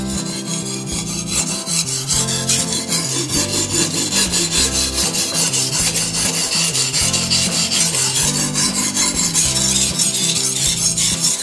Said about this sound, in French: à la façon que mon couteau a de glisser sur la pierre